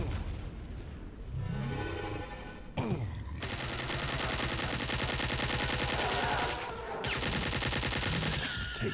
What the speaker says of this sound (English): I also like the explosion effects in this one.